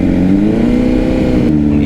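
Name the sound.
Honda CBR600RR motorcycle engine revving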